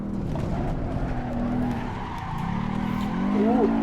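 Rear of a racing car sliding in a sim racing game, tires skidding and squealing with a steady engine drone, the squeal rising in pitch and growing louder toward the end.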